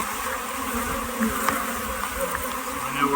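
Honey bees buzz in a steady, dense drone close by while nucleus colonies are combined, with a few brief clicks from handling frames and boxes.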